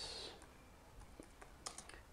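Typing on a computer keyboard, a few scattered quiet clicks and key taps at close range after a brief higher tone at the start, no talking.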